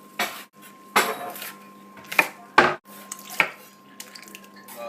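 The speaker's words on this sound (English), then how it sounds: "Well, you have to stir it so it doesn't burn." Beef and tomato sauce for lasagna gets stirred in a metal pot. A spoon scrapes and clanks against the sides in uneven strokes, close and fairly quiet, with short pauses between.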